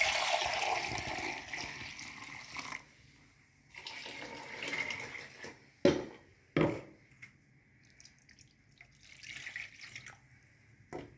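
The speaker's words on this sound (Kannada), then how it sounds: "ಇವಾಗ ಇದಕ್ಕೆ ಎಷ್ಟು ನೀರು ಬೇಕೋ ಅಷ್ಟು ನೋಡಿ ನೀರು ಹಾಕ್ತೀನಿ" Water poured into a pot of village-style fish curry, pouring in a few bursts with pauses between them, plus a couple of sharp knocks against the vessel, close and alone without talk.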